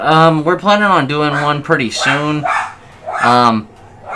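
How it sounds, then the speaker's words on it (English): Several dogs barking repeatedly in a house, restless and eager to go outside, sharp bow-wow barks in bursts close by, mixed with a person talking. "Sorry if you hear the dogs in the background. They want to go outside."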